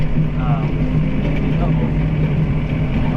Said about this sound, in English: listen to the loader work and the tractor work